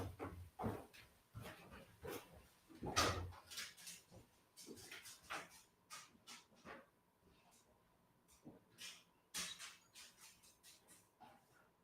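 A dog yips, whimpers and barks intermittently as it is let outside, with scattered thumps and movement noises, fairly faint and uneven over the clip.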